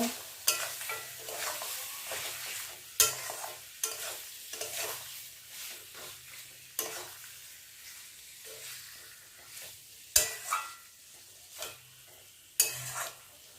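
Chicken pieces go into hot spiced oil and are stirred, giving a soft continuous sizzle broken by repeated sharp clinks and scrapes of a spatula against the pan.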